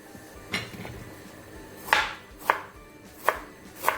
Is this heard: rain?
no